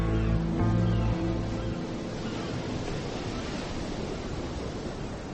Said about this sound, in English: The waves rolled by as they had always done.